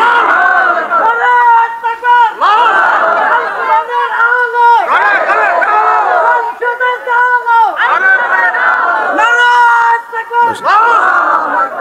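A large crowd at an outdoor religious sermon gathering in Bangladesh roars back in unison to the call of takbir, several loud collective shouts rising and falling over about twelve seconds.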